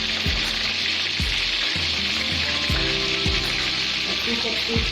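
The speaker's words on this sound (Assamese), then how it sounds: "প্ৰায় চিকেনখিনি আধা ফ্ৰাই হৈ গ'ল" Chicken leg pieces frying in a pan for Afghani chicken, a dense continuous sizzle with occasional soft knocks and stirring sounds, loud and close.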